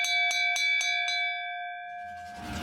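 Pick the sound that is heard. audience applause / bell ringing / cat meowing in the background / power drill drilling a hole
bell ringing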